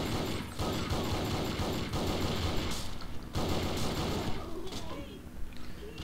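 An AK rifle fires in the PC shooter Sudden Attack, rescue mode, with loud rapid automatic bursts rattling close by in quick repeated volleys and brief gaps between them.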